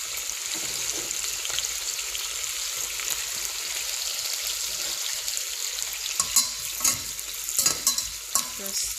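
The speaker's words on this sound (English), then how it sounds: "I will be frying the onions, the tomatoes and the paprika together with the red oil" Onions fry in red palm oil in a pot, giving a steady close sizzle with stirring scrapes and clinks picking up toward the end, and no talking.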